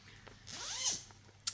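A bag zipper decorated with a spider pull is drawn open in one smooth, close zip lasting about a second, followed by a small click, quiet and alone.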